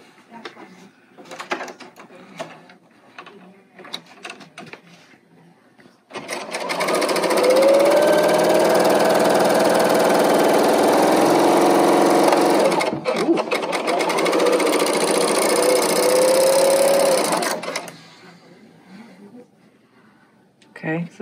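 A Baby Lock L890 serger stitches fabric at a tighter stitch length, a steady loud mechanical whir running continuously for about eleven seconds. Quieter talk and handling noises come before and after it.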